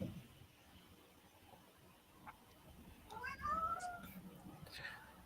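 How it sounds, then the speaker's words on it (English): A cat meows plaintively in an unhappy tone, with a couple of drawn-out cries near the middle of the clip over quiet background noise. "the cat is really unhappy"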